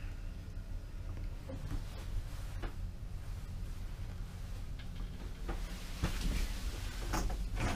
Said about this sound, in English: it has a wood door here that slides across